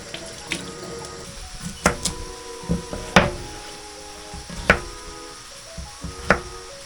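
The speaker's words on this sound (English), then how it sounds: "Quick rinse for the potatoes." Potatoes with the skin on are rinsed under a running kitchen tap in a Belize jungle home, with a steady stream of water broken by knocks and clunks as they are handled, close and fairly loud, no talk.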